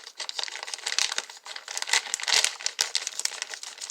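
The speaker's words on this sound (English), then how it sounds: "Now to open the pepperoni, which doesn't appear to be resealable." Plastic pepperoni package being opened by hand for a pizza pasta casserole, giving close, continuous crinkling and crackling with brief tearing bursts, loud and steady throughout with no talking.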